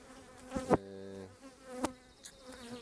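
Aggressive honeybees at a crowded hive, overfilling its two boxes, give off a close, brief droning buzz that swells and fades, with a few sharp knocks and clicks around it.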